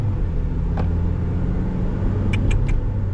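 A 1997 Honda Civic 1.6 EFI automatic rumbles with a low, steady engine drone as the throttle is pressed, close and loud, with a few faint clicks near the end.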